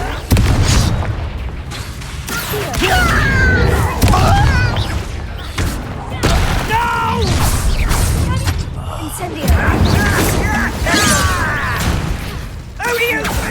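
Explosive Confringo spell blasts in Hogwarts Legacy combat: repeated loud booms and bursts over a dense, continuous roar of battle effects, with voices calling out between the impacts.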